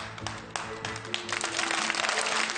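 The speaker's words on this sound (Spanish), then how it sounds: "Un aplauso para él." Audience applause in a hall, scattered clapping that builds and thickens over a couple of seconds, fairly near and moderate in level.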